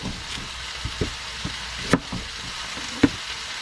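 Onions sizzle and fry in an Aussie camp oven, a steady crackling hiss with a few louder pops and stirring knocks and a faint low rumble underneath.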